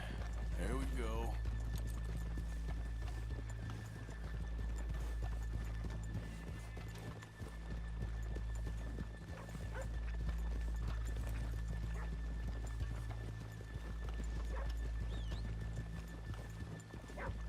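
Horses in Red Dead Redemption 2 walk with steady clip-clop hooves and an early whinny, amid town ambience, while people talk over them throughout.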